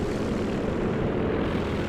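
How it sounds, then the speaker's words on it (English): Aircraft in Company of Heroes 2 fly over with a dense, continuous propeller-engine roar, loud and close for the whole moment. "Look at the planes coming in"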